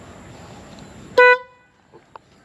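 A single short, bright horn honk from a HELLA horn fitted to a CFMOTO 450CL-C motorcycle sounds close by, cutting through low background noise before fading into quiet.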